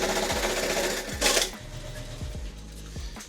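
A sewing machine stitches backpack mesh in a handmade workshop in Prague, with a steady rapid whir of the needle and several sharp mechanical clunks spaced through it, close and fairly loud.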